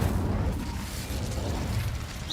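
Incendio fire spell cast in Hogwarts Legacy, a dense low rumbling whoosh of flame lasting a couple of seconds, loud and alone without talk.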